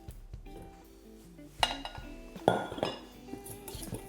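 Egg yolks are mixed with custard powder in a bowl, giving soft clinks and scrapes of a utensil against the bowl, with a couple of sharper knocks in the middle, fairly quiet and close.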